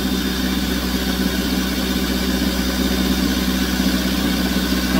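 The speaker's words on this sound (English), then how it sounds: "raise the RPMs up to 1500 so the compressor can kick in and suck the Freon in" A 2014 Kia Soul engine runs steadily at a raised idle near 1500 RPM so the A/C compressor engages, giving a loud, constant drone throughout with no voices.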